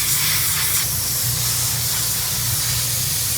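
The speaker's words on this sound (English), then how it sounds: "That's live steam. A lot of pressure, a lot of heat." Live steam hisses at high pressure in a motorcycle shop, a loud, steady, close-up rush of broadband noise with a low rumble beneath, continuing unbroken throughout.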